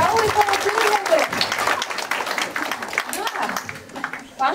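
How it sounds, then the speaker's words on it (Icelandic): An audience of children at a church children's hour applauds, a dense, fairly loud patter of clapping that tails off toward the end, with voices mixed in. "mér finnst að gefa henni gott klapp"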